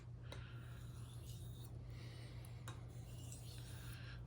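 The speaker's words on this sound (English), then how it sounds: "I'm polishing it and honing it and refining it" A knife blade being honed and polished to remove the burr, giving a soft, steady rasping and rubbing of steel against an abrasive with faint metallic scrapes, continuous and close over a low constant hum.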